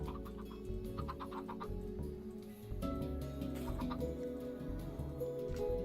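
Chickens cluck repeatedly in the Minecraft video game, a series of short clucks over a steady low in-game background hum, with no speech.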